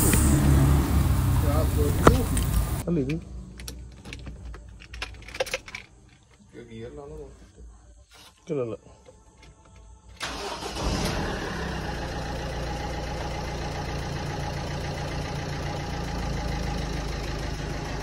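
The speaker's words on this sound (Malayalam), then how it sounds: "നമുക്കിനി കാർ സ്റ്റാർട്ട് ആവാൻ നോക്കാം." A Ford Fiesta, just fitted with a new battery, starts with a brief burst of cranking, then settles into a steady, close idle that runs on. Before it starts there is an interior shuffle and clicking.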